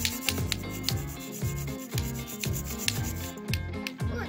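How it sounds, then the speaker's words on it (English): Small hand tool sawing and scraping at a plaster dig-it treasure block, a steady close rasping rub repeated in quick strokes for several seconds with no talk. "she's gonna try sawing away at it"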